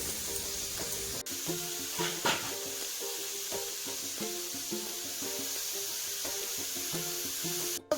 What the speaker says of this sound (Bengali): টমেটো, আলু, লঙ্কাটা ভেজে নিচ্ছি